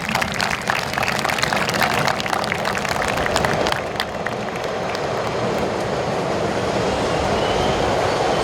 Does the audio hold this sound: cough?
no